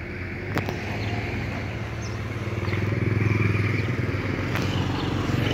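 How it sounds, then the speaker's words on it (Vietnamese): A small Rebel 125cc motorcycle idles with a steady, close, putt-putting pulse, rising a little partway through, with light clatter. "xin anh để nổ tiếng máy cho anh em nha"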